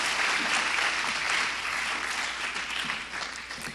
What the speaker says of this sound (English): let's give a nice round of applause for Senior King Jim Gall and Senior Queen Tr